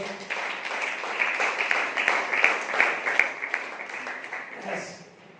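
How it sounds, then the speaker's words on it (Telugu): A church congregation at a Sunday service claps together in a dense, steady patter for several seconds, moderately loud and close, with a voice speaking over the applause before it tapers off. "అందరం చప్పట్లు కూడా దేవుడికి స్తుతించండి."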